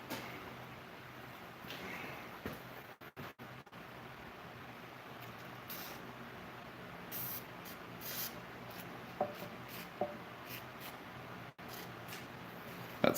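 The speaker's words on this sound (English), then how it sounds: "That spraying noise you can hear is me just WD-40ing the front of the guard" Short hissing bursts of WD-40 aerosol spray onto a steel knife guard come and go in several quick puffs, with light rubbing and clicks in between over a quiet background.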